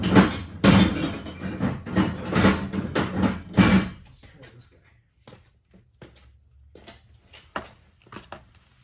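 Loud, repeated hammer blows during a car brake pad change, about seven heavy metallic strikes in quick succession, followed by quieter scattered knocks and taps.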